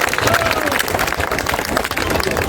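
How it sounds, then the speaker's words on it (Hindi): Large crowd applauding at an outdoor pension rally of thousands of workers, a dense continuous roar of clapping mixed with cheering and crowd babble. "जोरदार तालियों से एक बार स्वागत करते हैं।"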